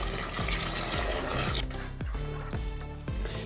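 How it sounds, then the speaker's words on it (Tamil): Water pours in a loud, rushing stream into a pan of spiced potato kurma for about a second and a half, then stirring scrapes repeat against the pan over a continuing sizzle. "கிளறி விட்டுட்டு தேவையான அளவு தண்ணி விட்டுக்கோங்க."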